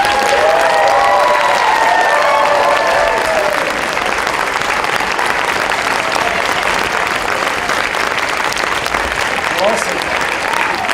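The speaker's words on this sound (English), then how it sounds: "please give your round of applause to Juliana Gableman and Maya Paribas." Sustained audience applause mixed with cheering fills the hall, loud and steady throughout, greeting third place winners at a CASA Schenectady Raise Your Voice event; a few whistles and voices rise early on.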